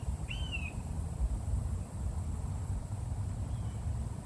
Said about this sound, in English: there's a bird that just flew by.